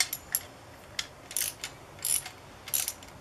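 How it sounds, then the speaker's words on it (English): Socket wrench turning a blade bolt on an EGO electric multi-blade lawn mower, giving quiet, irregular ratcheting clicks in short bursts, close up with no talk. "I'm holding the back of it with my thumb as I turn the socket."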